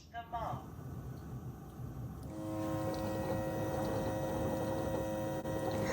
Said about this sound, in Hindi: ये आई थिंक एसी की थोड़ी सी आवाज है, ज्यादा नहीं है।